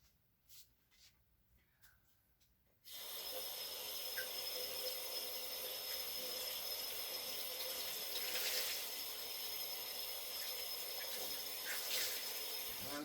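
Tap water runs steadily into a sink while an iron is rinsed out, starting abruptly after a few quiet seconds with faint handling sounds, then a close, continuous hiss with small splashy surges.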